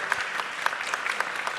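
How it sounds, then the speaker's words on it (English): Audience at a liveability challenge grand finale applauding six competing teams, brisk crowd clapping with a few sharper individual claps standing out, fairly close and continuous over the short stretch. "can you please join me in giving a round of applause to all 6 teams present here"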